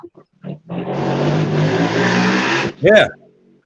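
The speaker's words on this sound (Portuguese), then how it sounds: "Parece que tem uma moto roncando por aí fora." A motorcycle engine revs outside, a loud broadband roar that swells for about two seconds and cuts off abruptly, with brief voice sounds around it.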